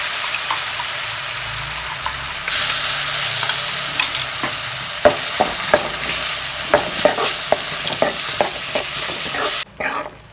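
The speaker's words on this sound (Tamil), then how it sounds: "அரைச்சி வச்சுருக்க சட்னியை போட்டு நல்லா கொதி வச்சுக்கலாம்ப்பா" Roadside-style tomato water chutney, ground and cooked in a pan without added water, bubbles and sizzles steadily while a spoon stirs and scrapes in repeated sharp clicks, loud and close, ending in a brief clatter.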